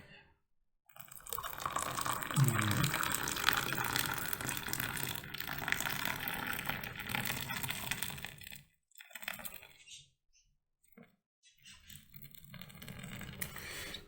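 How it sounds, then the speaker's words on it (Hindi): Milk poured into a pan for a homemade cappuccino, a close liquid gush and splash running several seconds, breaking off, then resuming more quietly. "अब हम इसके अंदर ये देखिए दूध को ऐड करेंगे"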